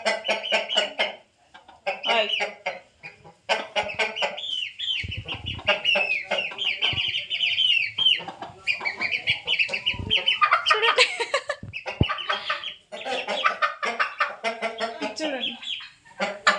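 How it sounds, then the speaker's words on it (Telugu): Chickens cluck and squawk repeatedly and close by at a village rice mill, with agitated bursts of calls and a few thuds between them. "కోళ్ళు"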